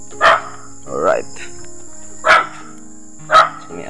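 A dog barks at an abandoned house in a wooded area, four sharp barks spaced about a second apart at moderate distance, over a steady background hum of insects.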